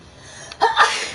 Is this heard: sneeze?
yes